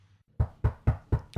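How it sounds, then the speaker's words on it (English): Five sharp knocks on a door land close and evenly spaced in quick succession, each a firm, hollow rap after a moment of near silence. "Knock at the door."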